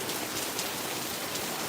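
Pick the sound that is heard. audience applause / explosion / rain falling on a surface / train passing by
rain falling on a surface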